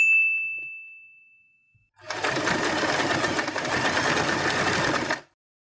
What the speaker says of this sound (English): Secure the elastic by sewing this part.